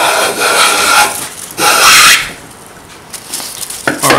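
A Chaplin hand plane takes a full-length shaving off a wooden board in a few long, close, loud rasping strokes with brief pauses between them, with no talking.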